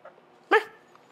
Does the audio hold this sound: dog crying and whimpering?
yes